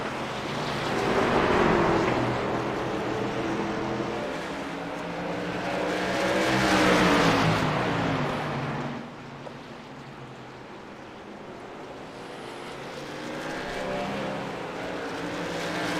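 Racing trucks roar past at North Wilkesboro during a BNR Truck Series championship race, surging and fading in broad waves of engine noise, some passes louder and nearer than others.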